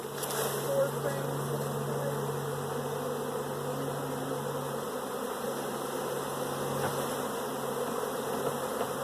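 A large honey bee swarm droning continuously, a dense close buzzing hum of many bees that holds steady throughout, with faint voices in the background.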